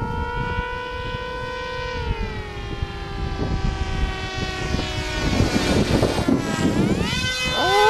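A radio-controlled model plane testing airfoils buzzes overhead, its propeller whine holding a steady pitch, then dropping and shifting as it passes and banks, fairly loud and alone.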